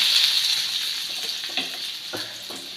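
Onions for a samosa filling fry in a pan with a gentle, steady sizzle, broken by a couple of light stirring scrapes, heard briefly and close.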